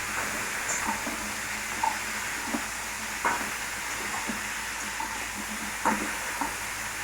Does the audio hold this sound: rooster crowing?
no